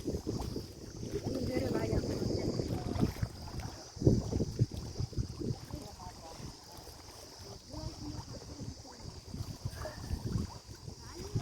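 Gusty wind buffets the microphone over lapping, wavy river water, with people talking intermittently nearby during net fishing.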